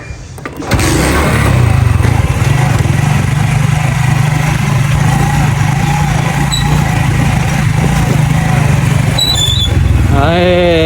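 Motorcycle engine idling steadily at a fuel pump, a loud continuous low rumble that holds for about ten seconds before cutting off near the end.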